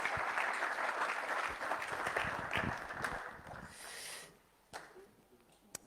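Applause from an audience thanking guests at a sports-resources launch evening, a dense wash of clapping that fades out after about four seconds, leaving a few scattered claps in a quiet room.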